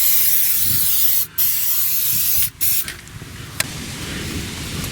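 Loud continuous hissing of rustproofing coating sprayed under a car close by, cut by two brief pauses, then giving way to quieter background noise and a single sharp click.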